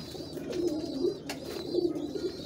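A male pigeon coos close by, a low throaty rolling call repeated in soft pulses over a quiet background.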